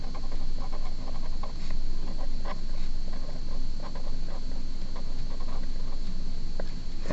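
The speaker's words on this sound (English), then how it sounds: "So I'm going to write that down here." A pen writes on paper in short scratchy strokes, close and fairly quiet, repeating in irregular bursts over a faint steady background hiss.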